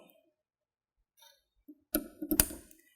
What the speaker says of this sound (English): you heard that clip. It's clipped into place.